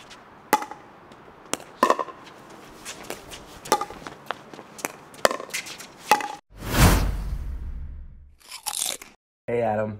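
Pickleball paddles strike the ball in a series of sharp, crisp pocks during a third shot drop rally, with a few louder hits and some rustling noise near the end.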